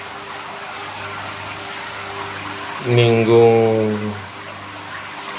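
Aquarium water is poured from one tank into a Malawi cichlid aquarium. A brief loud gush of about a second rises over a low steady hum, and a voice speaks nearby.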